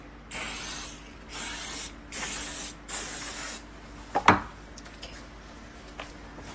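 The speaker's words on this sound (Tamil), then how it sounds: "கொஞ்சமாக ஆயில் ஸ்ப்ரே பண்ணிக்கலாம்." Four short hissing bursts of oil spray coat food on skewers before it returns to the air fryer, close and clear, followed by a sharp click and light handling noises.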